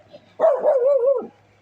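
Lucy the dog lets out one drawn-out, whining howl-like bark, close and fairly loud, held for about a second over a quiet background.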